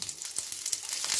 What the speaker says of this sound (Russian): Обжариваю спаржу на топленом масле.